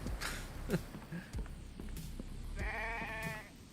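A sheep bleats in a survival video game, a drawn-out wavering cry near the end following a few soft footsteps and small clicks, faint and fairly close, with no talking.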